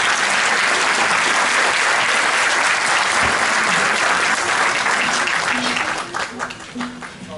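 An audience at a concert applauds a Turkish art music choir from the Sarıyer Public Education Center, with loud, sustained clapping from a full hall that thins out toward the end.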